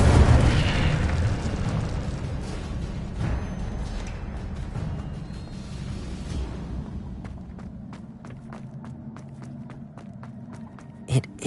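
The Incendio fire spell is cast in Hogwarts Legacy with a loud fiery whoosh and boom that sustains for several seconds and fades. Rhythmic footsteps and clicks follow.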